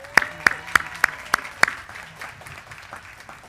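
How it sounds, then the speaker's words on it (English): Several sharp, evenly spaced claps from a few hands at a university commencement ceremony, fading into a softer, scattered patter of applause and low crowd murmur. "Let's give Kane another round of applause."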